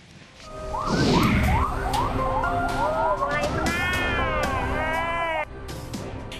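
A wailing, rising and falling siren from a vehicle chasing an ambulance on a highway in Klaten, Central Java, loud and close, swelling in after a quiet start and sweeping continuously amid road noise.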